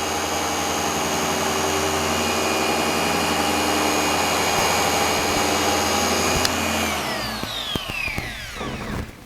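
A Rupes Bigfoot 15 MK5 random-orbital polisher with a wool pad runs loud at speed setting 5, giving a steady whirring motor whine that winds down near the end.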